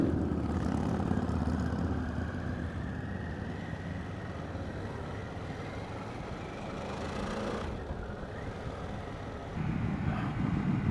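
A Harley-Davidson Pan America two-cylinder motorcycle rides along with a steady, loud engine drone under wind noise; near the end the engine swells briefly, as if given more gas.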